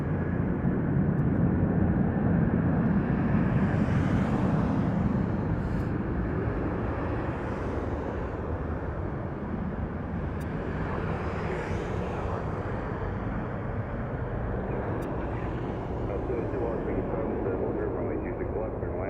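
An airliner takes off at Las Vegas Harry Reid International Airport with a steady, loud jet engine roar that holds for the whole stretch, heard from the ground at a distance.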